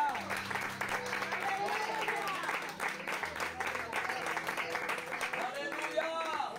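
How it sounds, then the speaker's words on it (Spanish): Church congregation applauding during a Spanish-language sermon at a transfiguration-themed service, steady clapping under raised voices and music throughout, continuous and fairly loud. "Den un fuerte aplauso a Dios, Espíritu Santo."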